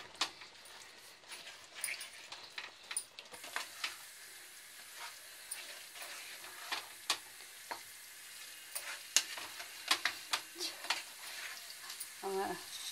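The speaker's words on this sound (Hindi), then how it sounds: "भिंडी डाल के अच्छे से सोते करेंगे" Okra and chicken sautéing in a pan, a soft steady sizzle with repeated stirring scrapes and light clicks of a utensil against the pan, fairly quiet and close, with faint talk near the end.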